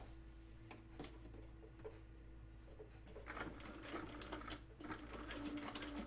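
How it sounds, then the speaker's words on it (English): A sewing machine stitches a buttonhole trial with two strands of white thread, a steady mechanical whir that picks up and grows louder partway through, close by with no talk over it. "I'm doing a buttonhole trial"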